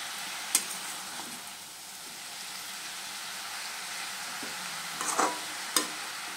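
Greens and fried kalai dal are stirred together in a pan, giving a soft, steady sizzle with a few sharp scrapes and taps from the spatula. The sound is fairly faint and close, with no voices.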